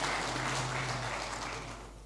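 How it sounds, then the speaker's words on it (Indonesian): A church congregation applauds its elderly members with a sustained wash of clapping from many hands in a large room, fairly faint and tapering off slightly at the end. "Tepuk tangan bagi orang tua kita."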